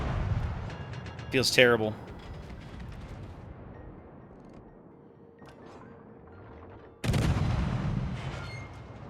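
Cruiser guns boom in World of Warships in heavy, broadband salvos, with one at the start and another loud burst near the end. Someone speaks briefly between the shots.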